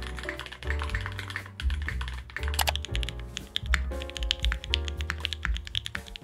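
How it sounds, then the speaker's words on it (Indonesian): Typing on a Shortcut Bridge75 aluminium wireless mechanical keyboard with a clacky sound, a steady run of close, crisp keystrokes over a music bed throughout. "Gue juga suka banget ya sama sound profile-nya yang bukan talky, bukan creamy, tapi clacky kayak custom keyboard mahal zaman dulu cuy."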